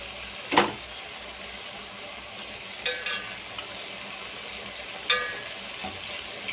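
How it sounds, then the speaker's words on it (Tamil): Chicken for biryani sizzles and fries in a pan with a steady crackling hiss, broken by a few sharp stirring scrapes. "கறி நல்லா வதங்கிடுச்சுப்பா."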